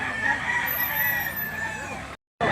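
A rooster crows loudly and continuously at a livestock auction market in Lipa City, Batangas, one long sustained call that cuts off abruptly near the end before noise resumes.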